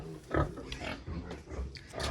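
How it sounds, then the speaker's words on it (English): Pigs grunting and snorting at close range on a family pig farm, a few short rough bursts with a sharp louder squeal near the start and low rumbling grunts following. "There is another pig there, a bigger pig there"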